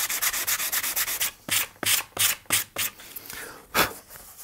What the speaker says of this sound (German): Und jetzt gehe ich hin mit einem feinen Schleifpapier